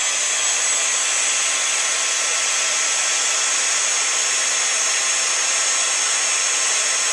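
A heat embossing tool blows a steady, loud stream of hot air to melt embossing powder on a handmade card, a continuous even whoosh with no talk.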